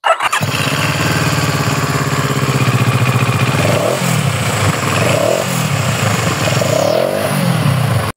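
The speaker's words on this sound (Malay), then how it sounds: "Bunyi enjin pun sangat menakjubkan." A 2022 CFMOTO 700CL-X Heritage motorcycle engine starts up and idles loudly nearby, then revs in several rising and falling bursts over its steady throbbing.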